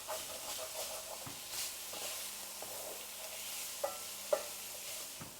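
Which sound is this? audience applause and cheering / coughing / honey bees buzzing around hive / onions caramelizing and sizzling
onions caramelizing and sizzling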